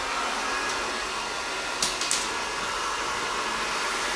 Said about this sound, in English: the blow dryer is gonna follow the brush.